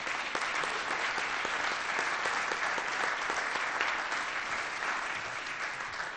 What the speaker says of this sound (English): Please join me in a round of applause for their yeoman's work.